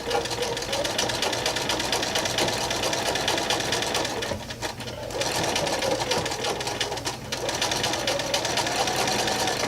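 A sewing machine runs steadily while stitching diamond-shaped quilt pieces, a continuous close whirring that dips briefly around the middle before resuming at a loud, even pace.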